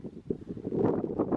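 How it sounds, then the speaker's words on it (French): Wind blows across an exposed mountain ridge during a solo winter bivouac, a steady low buffeting rush with gusts swelling and easing, close and moderately faint, with no voices. "Et le vent est encore présent."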